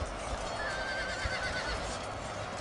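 Horses in the Shogun 2: Total War strategy game whinny over a dense, steady battle din, with a soft clatter of hooves running through it.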